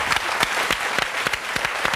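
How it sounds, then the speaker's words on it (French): A French-language TV studio audience applauds with dense, steady clapping for about two seconds, loud and close, with no voices over it. "qu'on peut applaudir"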